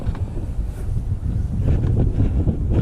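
Steady gusting wind buffets a microphone on a truck's hood, a low rumbling roar that swells slightly louder toward the end.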